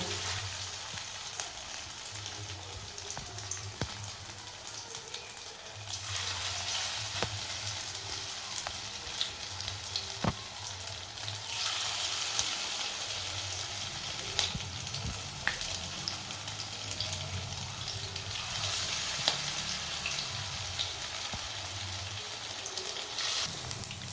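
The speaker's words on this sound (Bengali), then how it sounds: "এবার আমরা একটা একটা করে পকোড়াগুলো ভেজে নেব" Prawn pakoras crackle and sizzle steadily as they deep fry in hot oil on a gas stove, a close and continuous bubbling hiss with scattered sharp pops that swells louder partway through, with no talking.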